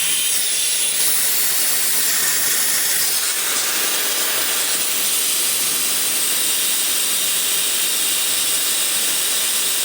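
Compressed air blasts out of the drain at the bottom of an air compressor tank, a loud continuous hiss that stays strong and steady throughout, with no talking.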